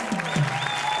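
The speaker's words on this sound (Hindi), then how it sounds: "जोरदार तालियां" Steady applause from a TV studio audience fills the clip, a continuous wash of clapping with crowd noise.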